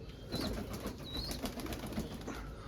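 Pigeons flap their wings in a soft, fluttering burst, with continuous low rustling and faint chirps above it, fairly close.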